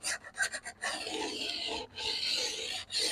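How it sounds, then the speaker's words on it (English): A metal file scrapes along a snowboard edge to take off a burr, making a short series of close, raspy strokes with brief pauses between them, with no talk. "I can feel the file just cutting."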